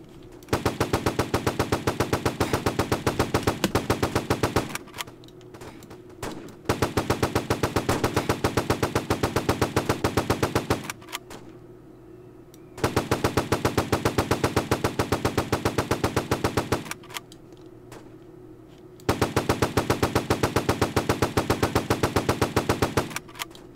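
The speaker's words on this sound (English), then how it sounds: "You snipe me! Gunfire." Automatic gunfire in Roblox PUBG rattles in long, rapid, steady bursts of several seconds each, separated by brief pauses, loud and close.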